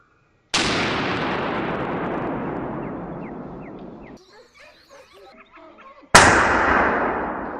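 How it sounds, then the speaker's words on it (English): Two loud rifle shots ring out during a wild boar hunt, each a sharp crack followed by a long echoing rumble across open terrain, with a brief quieter gap of faint rustling between them. "The gunshot ripped through the quiet morning air, and the animal fell instantly."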